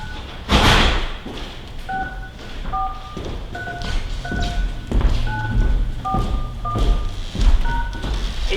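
Telephone keypad tones punch in a conference access code, a dozen or so short paired beeps in an uneven run over a muffled, hissy line with scattered thumps.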